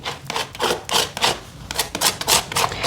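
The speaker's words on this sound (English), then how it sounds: "I am trying to scrape off as much as I can as well" Paint scraped off a mixed media collage, a close, loud run of rasping strokes repeating in quick, fairly regular succession with no talk.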